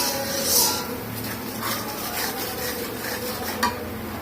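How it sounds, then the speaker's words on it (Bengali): Vegetables being sautéed and stirred in a pan for a curry with potatoes and eggplant, giving a close, soft sizzle under irregular scrapes and light clinks of a spoon against metal. "এখন এটাকে আমি সুন্দর করে ভালো করে কষিয়ে নেব।"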